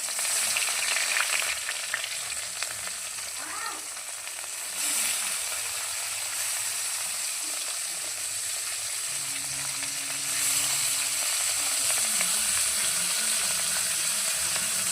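Fish pieces, including belly cuts of pona fish, frying in hot oil in a pan in a village kitchen in Bangladesh, with a steady close sizzle and occasional scraping stirs of a spatula throughout.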